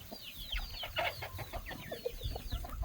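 Chickens, including silkies, cluck and chatter in a barnyard chicken lot, a busy overlapping mix of short clucks and squawks from several birds at moderate distance, with light rustling and ground noise underneath.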